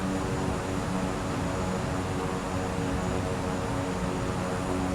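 A parked airliner's engine in Microsoft Flight Simulator hums as a steady, even drone with a whooshing rush of air, holding at a constant level throughout with no voices.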